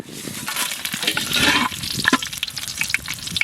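Bay leaf, dried red chili and cumin crackle and sizzle in hot mustard oil while tempering for a Bengali katla fish curry, with stirring scrapes and small pops close up and no talking.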